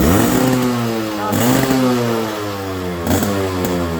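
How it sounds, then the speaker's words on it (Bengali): Yamaha RX 100 motorcycle running on its original silencer pipe with a freshly rebuilt engine, giving a loud, steady two-stroke drone up close, with the pitch rising in a few short revs. "অরিজিনাল সাইলেন্সার পাইপ এবং সাউন্ড কিন্তু অস্থির সাউন্ড হয়েছে"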